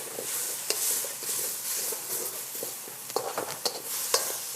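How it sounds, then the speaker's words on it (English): Deglazing a hot wok after stir-frying chicken and broccoli for a noodle stir fry, a steady close hiss of sizzling liquid with scraping and clattering spikes toward the end. "I'm just going to go right around and I'm deglazing the pan"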